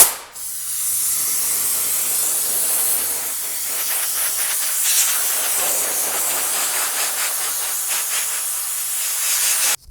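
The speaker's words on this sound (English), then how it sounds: "I have the compressed air hooked up. I'm gonna blow this out from all the dust and stuff real quick." Compressed air hisses steadily as it blows dust out of a fog lamp housing on a 2010 Volvo during an LED projector retrofit, a loud continuous rush with faint pulsing, close up and without talk.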